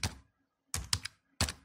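Close computer keyboard keystrokes are tapped in three short bursts separated by brief pauses, with no talk.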